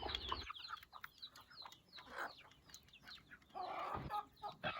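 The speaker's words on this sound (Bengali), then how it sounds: "এগুলো আমার স্বপ্নের দেশি মুরগি, এই রাতাতে বিক্রি করা হবে" Desi hens and roosters cluck softly in a farmyard, a quiet, scattered run of short clucks and murmurs from several birds at a little distance.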